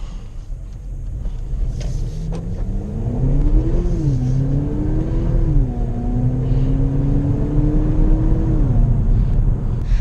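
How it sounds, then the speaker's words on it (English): An Infiniti QX30 Premium AWD with 208 horsepower accelerates hard in sport mode, its engine note climbing steadily through rising revs, dropping briefly at a shift and climbing again, loud and continuous from inside the cabin. "this Infiniti really gets up and get moving"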